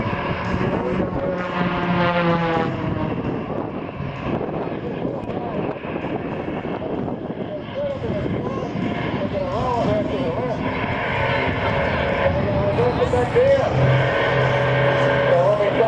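A Russian aircraft flies over the crowd at the 2016 Wings over Illawarra airshow at Illawarra Regional Airport, its steady engine roar filling the air beneath continuous public-address commentary.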